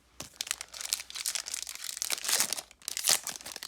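Foil wrapper of a Pokémon Sword and Shield Rebel Clash booster pack torn open close up, a dense crinkling, tearing rustle with a few louder crackly bursts and no talking.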